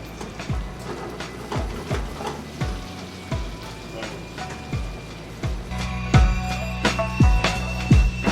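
Blueberries hitting a hot pan with bacon, a sizzling fry with a string of sharp pops and taps as the berries land and get stirred, close and fairly loud, with no talk.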